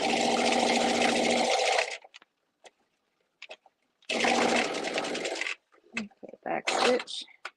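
A sewing machine stitches a linen seam in two loud, steady bursts of about two seconds each, with quiet gaps between them broken by faint clicks and handling noises.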